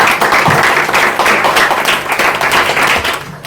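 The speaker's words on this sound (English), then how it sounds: "clap it up" Audience applause for a guest welcomed at a live talk in New York, a dense, steady wash of many hands clapping that holds strong for several seconds before starting to thin.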